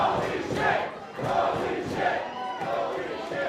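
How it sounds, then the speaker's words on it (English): A crowd at a wrestling show in the Great Hall roars and chants in rising and falling waves, a loud, reverberant indoor mass of voices. "Listen to the crowd here at the Great Hall."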